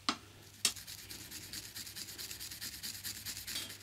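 Rust being rubbed and scrubbed off a metal part of a Garrard Phono 202A turntable: two sharp scrapes near the start, then a steady, close rasping rub that repeats in quick strokes, with no talking.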